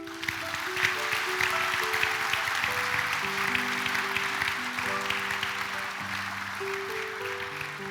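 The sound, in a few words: applause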